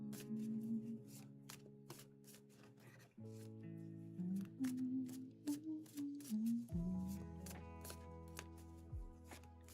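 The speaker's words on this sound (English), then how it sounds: "I shuffle for a while" Tarot cards shuffled over and over during a reading practice session, a crisp, steady riffling and flicking texture repeating throughout, with soft music playing underneath.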